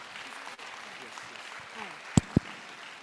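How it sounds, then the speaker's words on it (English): A meeting audience applauds in a faint, distant, even wash of clapping that holds steady throughout, broken by two sharp knocks near the end. "kindly join me to give a rousing"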